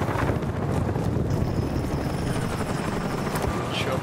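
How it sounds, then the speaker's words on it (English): A helicopter in the Battlefield Bad Company 2 video game on the Atacama map thrums loudly and continuously with a rotor drone, while players talk over it. "Chopper above their base."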